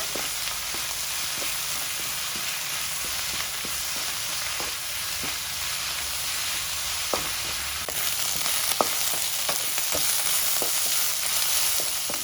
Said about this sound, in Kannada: ನುಗ್ಗೆ ಸೊಪ್ಪೆಲ್ಲ ಚೆನ್ನಾಗಿ ಫ್ರೈ ಆಗಿದೆ ಎಣ್ಣೆಯಲ್ಲಿ